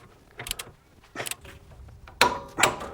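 A wrench tightens a new castellated nut on a tie rod end of a Toyota Landcruiser, producing several short ratcheting clicks and metallic creaks in bursts, close up with no talking.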